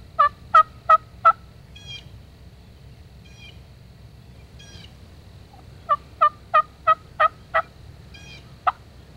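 A wild turkey longbeard gobbles back to a mouth call, two bursts of several loud, clear gobbles each, with a quieter series in between and one final gobble near the end, over a low outdoor rumble of spring woods.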